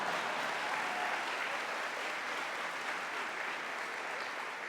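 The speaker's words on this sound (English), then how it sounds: "Please applause." A hall of fame induction ceremony audience breaks into applause, a broad, even crowd of clapping hands sustained for a few seconds at moderate distance, with no speech over it.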